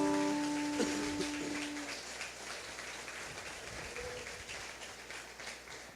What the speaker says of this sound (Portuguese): Você pode aplaudir esse Deus que enviou Jesus?